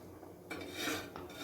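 A metal kadai is handled while diet chicken cooks in oil, giving a few clattering, scraping metallic knocks and rubs at close range without speech.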